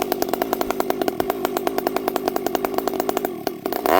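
A Stihl MS 441 chainsaw runs close and loud outdoors in the woods, its engine chattering in a rapid, even pulse that holds steady and then dips briefly near the end.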